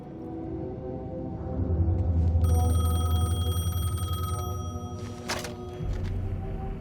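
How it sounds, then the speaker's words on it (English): A telephone rings in the video game Alan Wake 2, a bright electronic trill lasting about two seconds over a low, droning ambient hum, with the rumble easing off afterward. "phone was ringing. Somehow I knew the call was for me."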